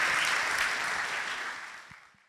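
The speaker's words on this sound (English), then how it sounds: "A big round of applause in welcoming His Excellency Hareb Almuhairi" A conference audience at a UAE economic event claps to welcome an executive director to the stage, a burst of applause that fades steadily to near silence within about two seconds.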